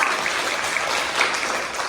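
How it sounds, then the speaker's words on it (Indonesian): A classroom applauding steadily, dense clapping from many hands filling the room without pause. "Tepuk tangan untuk Amanda."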